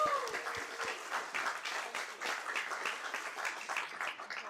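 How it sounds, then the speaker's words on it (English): Audience at an Astronomy on Tap evening applauding the speakers, a steady crowd of clapping hands that stays even throughout, with a brief voice at the very start. "let's give another big round of applause to both of our speakers this evening"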